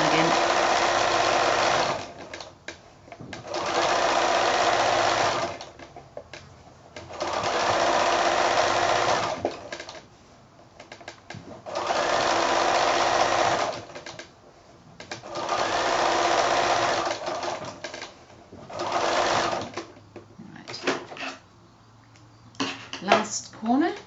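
A sewing machine stitches binding onto a quilted placemat in several loud, close runs of rapid rattling hum lasting a few seconds each, separated by pauses with handling sounds and a person talking.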